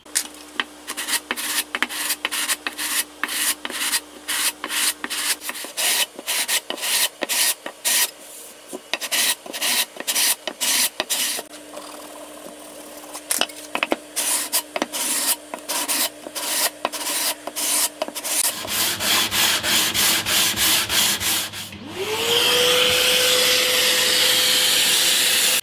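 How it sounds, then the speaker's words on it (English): A guitar neck is sanded on a long leveling beam during a from-scratch guitar build, giving rhythmic rasping strokes in quick repeated passes, near and clear, before a vacuum-like motor starts up and runs steadily at the end. "into the trusty leveling beam, and hopefully I can fix this"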